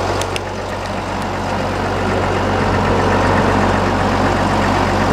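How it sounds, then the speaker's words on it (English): The cooling fan of a 2008 Caterpillar 930G wheel loader whirs steadily, a loud broadband rush over a low idling diesel engine that swells slightly and holds constant. "Show you the fan here."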